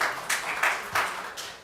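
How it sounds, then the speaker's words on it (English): An audience at a school board meeting claps in a brief burst, with a few uneven loud pulses of hand claps that fade quickly. "Please hold your applause later on."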